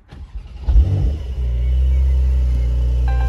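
Porsche 992 Carrera 4S cabriolet with PDK gearbox starting up: a starter crank, a loud revving flare, then a deep steady idle rumble heard close by with no talk.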